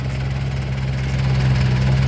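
A Yanmar EF514T tractor engine runs at a steady idle, a loud, close, low rumbling drone with a constant hum that continues evenly for about two seconds without any voices.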